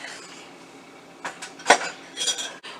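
A spoon stirring fruit custard in a pot over low heat, soft scraping with a few sharper metallic clinks against the pot, fairly quiet and irregular.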